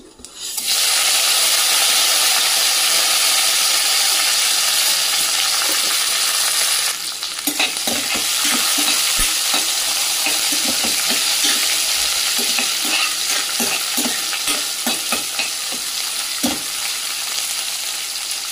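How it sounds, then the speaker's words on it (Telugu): Curry leaves, onion and green chilli pieces drop into hot oil in a pan with a loud burst of sizzling that settles into steady frying, broken by repeated scraping stirs of a spatula close up, with no one talking. "ఇవి కొంచెం మగ్గాక ఇందులోకి కరివేపాకు, ఆనియన్, పచ్చిమిర్చి ముక్కలు వేసుకోవాలి"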